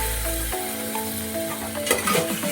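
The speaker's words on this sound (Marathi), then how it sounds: "ते आपण आता सगळं मिक्स करून घेऊया। हे चांगलं भाजून घेऊया।" Bell pepper, tomato and masala sizzle as they're stirred and fried for masala rice, a steady close hiss with a few scraping stirs toward the end.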